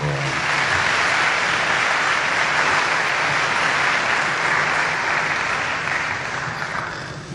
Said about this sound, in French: Applaudissez d'abord très fort.